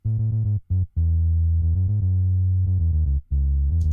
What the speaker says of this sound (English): Just that clean, subby low end that I blend in beneath the bass